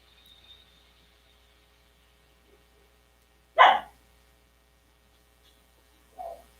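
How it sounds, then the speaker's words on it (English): A dog gives a single loud bark, then a softer bark follows a few seconds later, both heard alone against a quiet outdoor background. "that's my dogs. Bark here and there"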